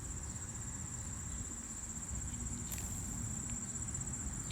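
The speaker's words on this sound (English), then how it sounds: "Oh, that was a cicada." Steady high-pitched insect buzzing of a cicada, continuous and fairly loud outdoors on a warm summer day, over low background rumble.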